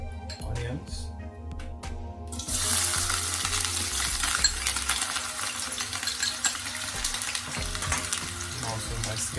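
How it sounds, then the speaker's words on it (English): Onions hit hot oil in a preheated pot with a sudden loud hiss that settles into steady close frying, with metal clinks of stirring and a person talking over it. "When my oil is hot, I'm going to start out with my onions."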